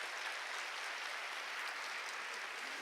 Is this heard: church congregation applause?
yes